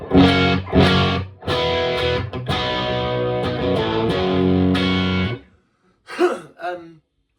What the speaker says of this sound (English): this is what it sounds like, just the guitar, the pedal and the amp